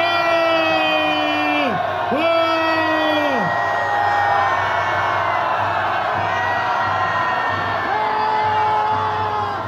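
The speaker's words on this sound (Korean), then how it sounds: "고함을 질러봅시다." A crowd yells together at a street election rally at Sinchon Rotary in Seoul, rising into loud sustained whoops and shouts that swell, break off and start again, while an amplified voice talks over them.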